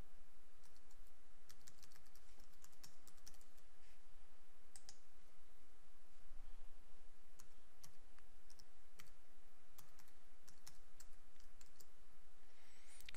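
Rapid, steady clicking of keys on a computer keyboard while a host name and credentials are entered into a backup appliance console, close and continuous with no talk.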